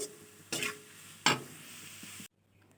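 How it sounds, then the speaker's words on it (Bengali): Coconut and jaggery stir-fried in a pan: two distinct scraping stirs of a spatula over a quiet, steady low hum and faint sizzle, then an abrupt cut to near silence. "নারিকেল আর গুড় ভাজা ভাজা করে নিয়েছি"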